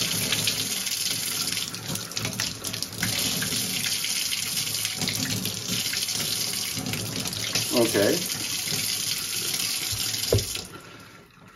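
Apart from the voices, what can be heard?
warm tap water running in sink to clean paint brushes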